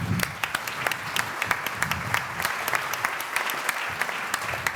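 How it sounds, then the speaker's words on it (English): An audience at a talk on artificial intelligence and creativity applauds warmly as a guest walks on stage; close, dense clapping with sharp individual claps standing out, continuous for several seconds. "please, a warm applause for Maike"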